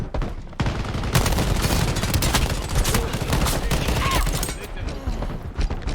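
Rapid bursts of hip-fired video game gunfire crackle almost without pause for several seconds, loud and dense, with no voices over them.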